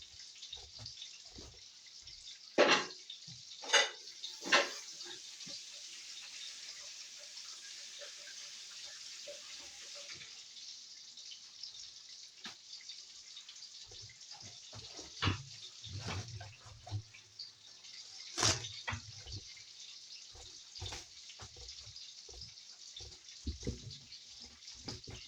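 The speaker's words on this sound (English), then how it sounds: "Now I can be able to wash my hands." A kitchen tap runs steadily for handwashing, giving a continuous hiss that drops away partway through. Splashes and clatters of dishes follow, and there are some brief handling knocks, all heard close in a quiet indoor room.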